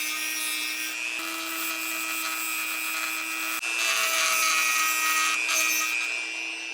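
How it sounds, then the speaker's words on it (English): A diamond cutoff wheel grinds the edges of glass with a steady high whine and gritty rasp, close and continuous, briefly dipping before resuming louder. "then use a diamond cutoff wheel to grind the edges down and smooth them"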